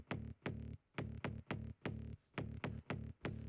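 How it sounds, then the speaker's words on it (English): A Serum synth preset with light compression for a drum and bass track, playing a quiet, steady pattern of punchy low notes with sharp attacks and short gaps, alone without voices. "Below that, we've got this Serum preset here,"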